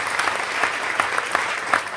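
Audience applause at a beginner sit-in concert, a steady patter of many hands clapping with some sharper individual claps standing out, moderately close.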